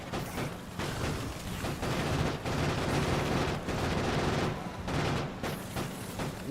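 Bombs exploding in a Factorio Space Age game on the island world Fulgora, a long run of loud, rapid blasts and crackling bursts that come in waves with brief dips between them, no voices.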